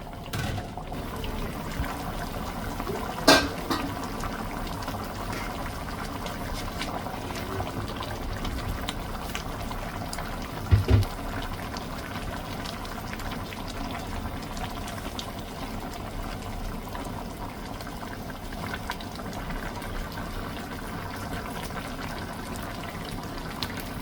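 Pork pochero broth simmers in a pot with cabbage, potatoes, carrots and saba bananas, a soft, steady bubbling punctuated by two brief clunks of ingredients or utensils; no one speaks.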